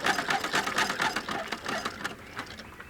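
A sewing machine stitches the side seam of a skirt outdoors in a park, a fast steady whirring chatter of the needle that eases off and slows toward the end.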